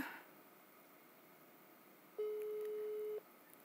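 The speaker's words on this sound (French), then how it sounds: "Et je vais l'appeler directement en vidéo. Je clique sur le petit pictogramme vidéo. J'attends qu'on réponde." A WhatsApp video call rings out: a single steady electronic tone about a second long, clear but quiet over a hushed room.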